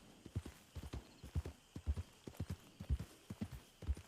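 A horse in the RedM (WildRP) game world clip-clops along at a steady walking pace, hoofbeats fairly quiet and evenly spaced, with no talking over them.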